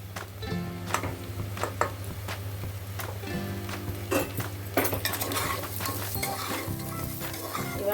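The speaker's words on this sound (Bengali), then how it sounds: "এটাও আমি ভালোভাবে নাড়াচাড়া করব" A spoon stirs soya and vegetable pulao inside a pressure cooker. It scrapes and clanks against the metal in a steady rhythm over a continuous close sizzle of frying, with no voices.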